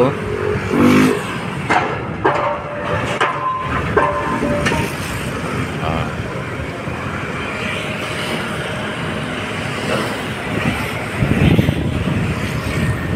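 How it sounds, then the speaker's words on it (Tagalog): Jeeps and other traffic pass along a road near the Esplanade construction area, a continuous loud rumble of engines and tires with occasional louder passes, no clear talk over it. "May mga dumadaan dito na mga jeep"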